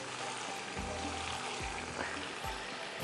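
Whole chillies dropped into hot oil while making vegetable karahi, a steady close sizzle and fry with a few soft low thumps as pieces go in.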